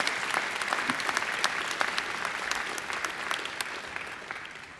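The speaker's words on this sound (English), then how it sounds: "I think she deserves another great round of applause." At a university graduation ceremony, an audience gives a steady, dense round of applause in a large hall, with individual claps crackling through a continuous wash of clapping for the whole stretch.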